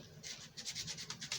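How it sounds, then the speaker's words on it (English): Rough-grit sandpaper rubbing along the body of a small carved cherry wood cardinal, a soft, close, steady series of raspy back-and-forth strokes, quiet and unaccompanied. "we get a rough grit of sandpaper and start sanding along the body"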